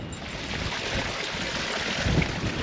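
A cascading waterfall in a war memorial garden gives a steady, dense outdoor rush of falling water with some wind buffeting, continuous and fairly loud throughout.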